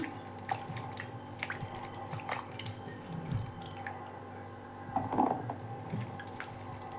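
Sliced ivy gourd being washed by hand in a bowl of water: repeated splashes and drips, close and moderately loud, with a stronger swirl of water midway.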